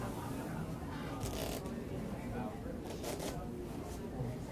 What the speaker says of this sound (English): Therefore, I shuffled the deck